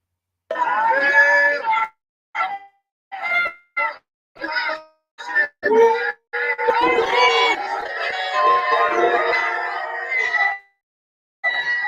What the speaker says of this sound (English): the large majority of the crowd there was booing